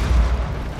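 Grenade blast in the tactical shooter Rainbow Six Siege: a single deep, rumbling boom that stays heavy and low for nearly a second, with no voices over it.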